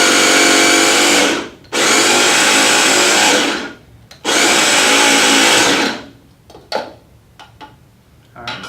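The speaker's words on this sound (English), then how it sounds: "And then you want to pulse it until fine." A food processor pulses ingredients until fine, with three loud whirring bursts of about two seconds each, separated by short pauses. Scattered clicks and clatter follow as the machine stops.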